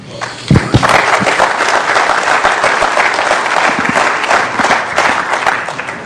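A conference audience breaks into loud, sustained applause, many hands clapping together steadily for several seconds.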